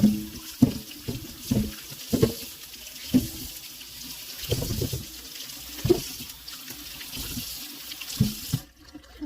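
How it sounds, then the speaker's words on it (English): A dirty potato is rinsed under a running kitchen tap, with soft, intermittent splashes and bumps as it is turned in the stream, fairly quiet and close. "I'm gonna rinse my potato. Potato is pretty dirty."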